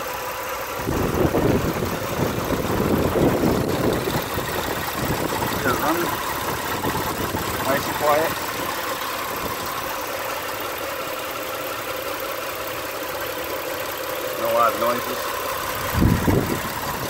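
A 2008 Mitsubishi Eclipse engine idles steadily with a low, even rumble, while someone talks over it now and then and a few brief clatters come through.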